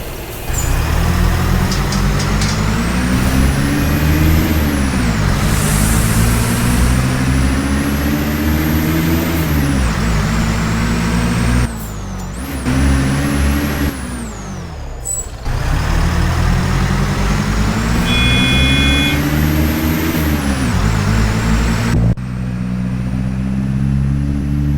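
Bus engine in the Proton Bus simulator, a Vip2 Midi with a loud droning rumble rising and falling through gear changes, with brief air brake hisses and short pauses, close and continuous.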